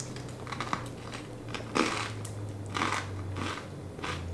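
Very crispy toasted homemade bread is bitten and chewed up close, giving several distinct crunches at irregular intervals over a faint low hum.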